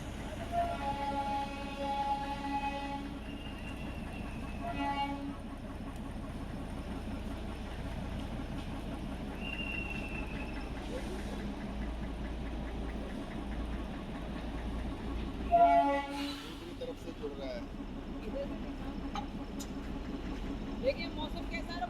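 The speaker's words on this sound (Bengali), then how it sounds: "এই দেখুন ইঞ্জিনটা জুড়ছে এবার" A Darjeeling toy train engine idles with a steady low rumble at Ghum station while coupling to its carriages, with a clank partway through and squeaks and whistling tones above, and people talk nearby.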